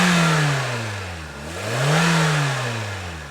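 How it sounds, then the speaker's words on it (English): A used donor car engine revs up from idle, its tone rising, dropping back, then climbing again in a smooth, loud, close swell with no voices. "Give it a rev up."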